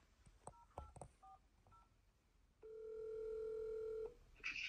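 A telephone dialing a number. A quiet series of short keypad tones comes first, followed by one long steady tone lasting over a second, then a brief higher chirp; no talk.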